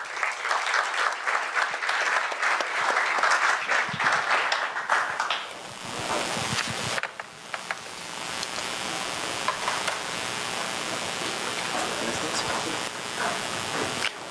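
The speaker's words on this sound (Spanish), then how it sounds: "un fuerte aplauso" An audience at a seminar on migration and health breaks into loud, dense applause that fills the room for about six seconds, then thins into scattered clapping and quieter hall murmur.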